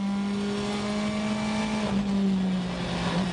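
Chris Atkinson's black and fluorescent-green Mini WRC rally car passing at WRC France Alsace 2012, a loud steady engine drone held at high revs with a pitch drop as it goes by.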